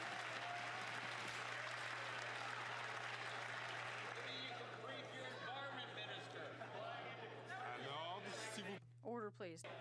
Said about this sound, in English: Oh, look at the journalist clapping.